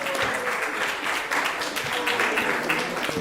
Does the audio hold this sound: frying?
no